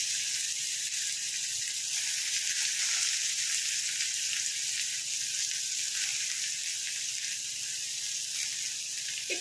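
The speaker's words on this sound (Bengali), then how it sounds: "তেলটা গরম হলেই আমি পেঁয়াজগুলো কুচি কুচি করে কেটে রেখেছি দিয়ে দিলাম।" Finely chopped onions sizzling in hot oil in a pan, a steady continuous hiss that holds at an even level throughout, close and alone without talk.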